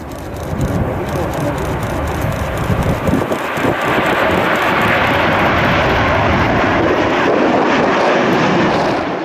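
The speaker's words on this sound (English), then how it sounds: "This Airbus A350 making an incredibly steep takeoff from Berlin." An Airbus A350 climbs away steeply on takeoff at a Berlin airshow, its jet engines a loud, steady roar that holds for the whole stretch.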